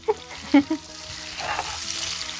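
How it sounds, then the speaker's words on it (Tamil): Chopped onions go into a very hot kadai and catch with a sharp sizzle, after a few clanks at the start. A steady, close frying hiss then builds and holds. "இப்போ நம்ம வந்து கட் பண்ண வெங்காயம் போட்டுக்கலாம்"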